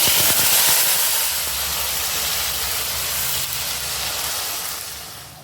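Onion paste frying in hot oil for a spicy Bengali-style crab curry, giving a loud, steady hiss and sizzle that fills the whole stretch close to the pan and fades a little toward the end.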